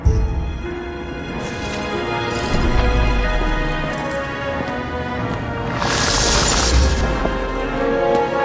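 Glass shards breaking and tinkling in the detective game Nobody Wants to Die, a long run of crackling, scattering fragments with brighter crashes near the middle and end, fairly close, no talking.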